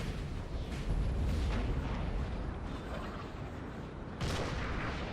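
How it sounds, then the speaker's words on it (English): Cannon artillery in a Napoleonic Total War 3 battle rumbles as dense, layered booms and crackling volleys, a continuous loud barrage with a stronger burst near the end. "it's a cannon slugfest right now"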